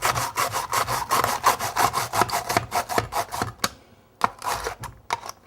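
An onion is cut on a clamped slicer, pushed up and down: rapid, regular crisp slicing strokes close by, pausing briefly near the end before a few final cuts, with no talking.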